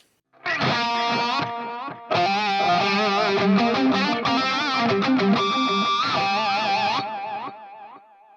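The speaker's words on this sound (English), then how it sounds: "I would use the wow control and a little bit of flutter to add some modulation" A sustained synth or keyboard chord warbles through a NUX Tape Core Deluxe effect pedal, with a slow wow pitch wobble and fast flutter giving a wavering, tape-like modulation.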